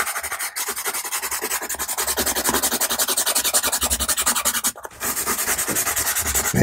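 White pastel pencil rubbed over paper in fast, steady back-and-forth strokes, a close scratchy rasp that keeps a regular rhythm and pauses briefly near the end.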